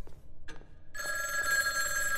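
Telephone ringing inside the Obscuritas horror game, a steady electronic bell tone that begins about a second in after faint background clicks and keeps sounding, moderately loud and alone.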